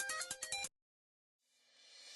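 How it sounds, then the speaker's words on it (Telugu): A phone ringtone for an incoming call plays a short, loud melodic burst of rapid tones, then stops, followed by silence and a faint rising background hum. "అమ్మ ఫోన్ చేస్తుంది."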